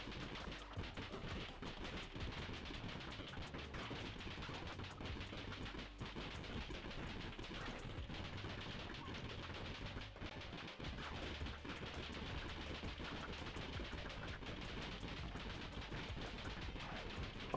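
Rapid gunfire in the video game Death Road to Canada, a steady unbroken stream of small shots rattling continuously at even volume, dense and mechanical, with no talking.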